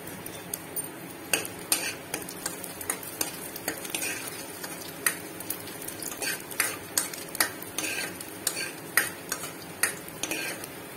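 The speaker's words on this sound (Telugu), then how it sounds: "నా దగ్గర అయితే వడిం ఉంది కాబట్టి నేను వేస్తున్నాను" Vadiyam frying in hot oil for a tempering, a steady close sizzle with frequent light metallic taps and scrapes of a spoon against the pan, with no one speaking.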